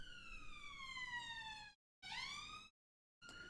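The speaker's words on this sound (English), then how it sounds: "That is the first siren of the day." Police siren outside during a Manchester United versus Fulham match livestream: a faint, distant wailing tone sweeping down and up, cutting out twice and returning.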